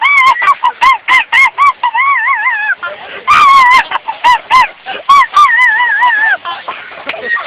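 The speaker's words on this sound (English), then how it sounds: "I'm sorry, it's my birds around me." Birds honk loudly around a caller on a phone line, with a rapid run of repeated goose-like honks and warbling calls, close and continuous.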